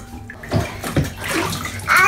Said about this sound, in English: Are you dumping all the water in your head?